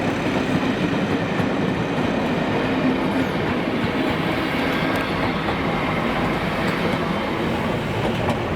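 A train in Scotland rumbles steadily past at close range, wheels clattering on the rails in a continuous loud roar with faint squeals.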